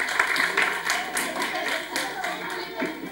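Audience applause at a Christmas card contest awards ceremony following a magic trick, a steady run of clapping from a modest crowd lasting the whole stretch, fairly close, with some talk mixed in.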